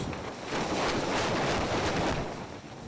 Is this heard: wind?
yes